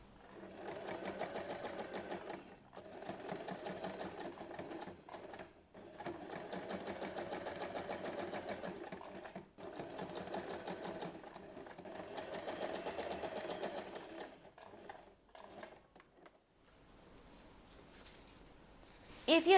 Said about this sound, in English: Then sew the hook tape onto the main fabric only.